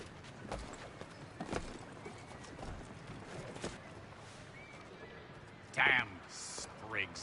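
Horse hooves clip-clop on a city street in Assassin's Creed 3 Remastered, faint and steady under a busy ambient bed, with voices talking and a brief louder knock near the end.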